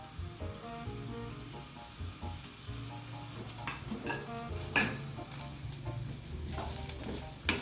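Spices and curry leaves roast in a pan over a low flame for green tomato chutney, a quiet crackling sizzle with occasional scrapes and taps as a spoon stirs them.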